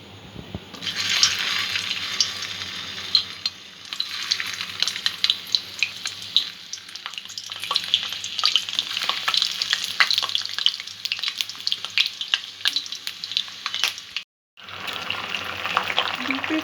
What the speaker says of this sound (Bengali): এখানে পটলগুলো একটু হালকা করে আমি ভেজে নেব আগে